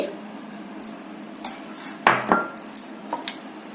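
Mustard and fenugreek powders are stirred into sun-dried Andhra-style mango pickle, with close, sporadic metallic clinks and scrapes of a spoon against a vessel, a few sharper knocks in the middle.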